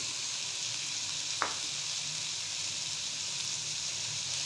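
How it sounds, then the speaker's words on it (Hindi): Carrots, chicken and potatoes fry in a pan for fried rice with a steady, close sizzling hiss that holds throughout, broken by one brief clink of a utensil. "अब हम इसको मज़ीद 1 मिनट फ्राई करेंगे।"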